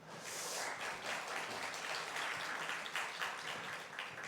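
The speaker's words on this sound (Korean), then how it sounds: "박수 한번 하겠습니다" An audience at a Korean church service or seminary gathering claps for a guest pastor, a steady, fairly quiet patter of many hands lasting a few seconds.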